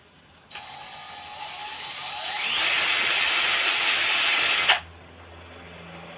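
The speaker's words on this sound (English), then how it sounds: "First I got to drill a hole right up next to the edge." A power drill bores a hole near the edge of a handmade wooden walking stick's grip, a steady whine that climbs in pitch and loudness over about four seconds before cutting off, with no talking.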